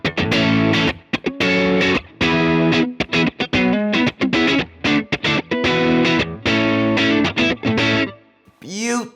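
Electric guitar played through an engaged Origin Effects RevivalDRIVE overdrive pedal set fairly neutral, giving loud sustained chords and picked notes with short gaps, close and alone, ending on a brief pitch-swept tail.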